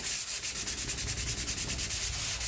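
Rhythmic back-and-forth scraping of a sanding block on the body of a '57 Bel Air, quick regular strokes, close and steady.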